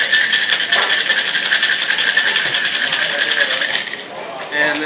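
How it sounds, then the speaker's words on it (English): Ice rattles hard in a cocktail shaker during vigorous shaking of a gin, cranberry and rose water cocktail, a dense, loud, continuous churning clatter that runs almost unbroken from start to finish. "Give it a good shake."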